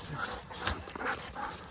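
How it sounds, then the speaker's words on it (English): Dogs at an outdoor savanna site on a cold January morning give soft whimpers and short yips, close by and fairly faint, with no speech. "the dogs just got here"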